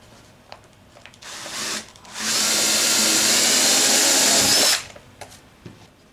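A power drill bores through a wooden MiniMiner frame using a template, making one loud, steady grinding whir of about two and a half seconds. Faint clicks and taps come before and after it.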